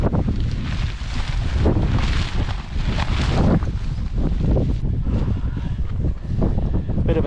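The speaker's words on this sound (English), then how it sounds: "Bit of a struggle with the wind, but we got it up." Strong wind buffets the microphone while a tent is pitched at a wild campsite, gusting in loud, rushing surges with fabric flapping throughout.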